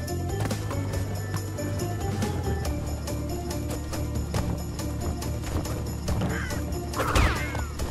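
Birds caw in the Crash Bandicoot video game, several harsh calls scattered over steady game ambience, with a brief crash-like effect near the end.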